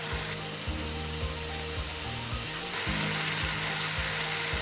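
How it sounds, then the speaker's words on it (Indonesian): Grated coconut sautéing in a little oil with lime leaves for serundeng, a steady dense sizzle and crackle filling the clip, close and fairly loud, with no voices. "Ditumis biar wangi, biar mateng."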